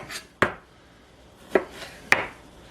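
Three sharp knife strikes against a cutting board while trimming pith and seeds from a jalapeno pepper, close and distinct, spaced irregularly with quiet gaps between the cuts.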